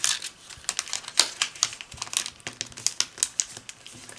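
Stiff paper creased and folded, then slid into a pocket of a folded paper parallelogram flicker: a quick run of sharp crinkles and crisp taps, close and clear, with no talking.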